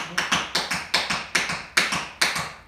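Quick tap-shoe flaps, about ten sharp metallic strikes in a steady, slightly uneven rhythm, close and crisp with no voices.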